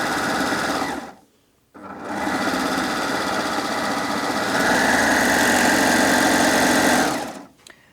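An overlocker runs a flatlock stitch on fabric, its rapid mechanical whir steady and close, pausing briefly about a second in before resuming for a long continuous stretch that ends abruptly.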